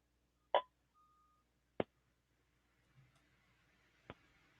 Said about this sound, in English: Keep hearing beeping.